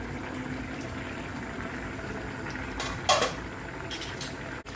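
A metal lid lifted off a pot of simmering brinjal curry over a low gas flame: a quiet bubbling bed with a brief clatter of the lid, then a softer knock.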